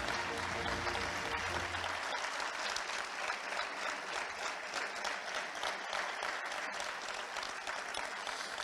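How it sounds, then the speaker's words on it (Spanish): Sustained audience applause at a sports awards gala in Canet d'en Berenguer honoring a classical dressage rider, a steady, even roar of clapping heard from a distance throughout. "Ese fuerte aplauso, repito, para Lucía Pardo Pérez, en doma clásica"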